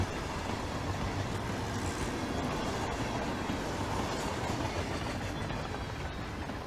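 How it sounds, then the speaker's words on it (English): A train in the video game Hitman 3 rolls along its rails as a steady, even rumble with a faint rhythmic clatter, continuous and moderately loud throughout, with no talking. "This is a good train."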